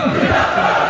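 A large crowd at a road show rally during a nomination gathering shouts in a loud, dense roar of many voices, chanting together in a brief burst.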